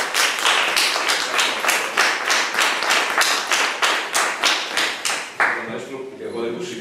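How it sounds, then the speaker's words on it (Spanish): Audience applause for a storyteller named Judith at a live storytelling event, a dense run of hand claps close and loud, tapering off near the end as speech begins. "Un fuerte aplauso para Judith."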